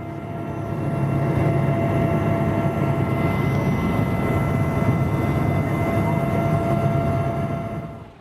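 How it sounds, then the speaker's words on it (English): Helicopter flight to St Mary's in the Isles of Scilly, heard as a steady loud cabin drone and rotor rumble that fades in and holds evenly throughout. "Clevedon News chose to travel by helicopter on this, their first overseas assignment"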